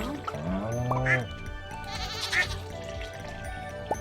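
Farm animals in the video game Stardew Valley bleat a few times in short sheep- or goat-like calls over game sounds, while a person talks throughout.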